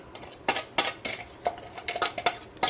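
A utensil scrapes and clinks against a wide metal plate as ragi flour, coconut, edible gum and dry fruits are mixed, giving a quick irregular run of close, crisp taps and scrapes with no voices.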